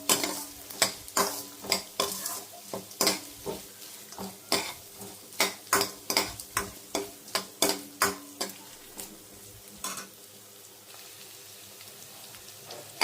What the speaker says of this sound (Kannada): ಸ್ವಲ್ಪ ಆನಿಯನ್, ಹಸಿಮೆಣಸಿನಕಾಯಿ ಇದನ್ನು ಹಾಕಿ ಚೆನ್ನಾಗಿ ಮಿಕ್ಸ್ ಮಾಡಿಕೊಂಡು ಚೆನ್ನಾಗಿ ಸ್ವಲ್ಪ ರೋಸ್ಟ್ ಮಾಡ್ಕೊಳ್ಳಿ